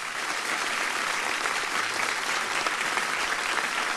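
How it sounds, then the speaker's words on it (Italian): Steady audience applause at a poetry guest's appearance on a talk show, dense and continuous throughout with no voices breaking through. "Facciamogli un applauso"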